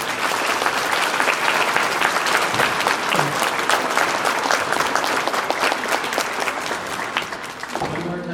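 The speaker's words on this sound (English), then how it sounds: "Let's give them a big round of applause." Loud, sustained applause from an audience at a 2017 school awards ceremony, dense clapping that fills the room and slowly thins near the end.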